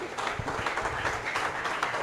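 A church congregation at a fasting and prayer service in Yaoundé bursts into dense, continuous applause. The clapping is close and lively and lasts the whole stretch, with scattered voices mixed in.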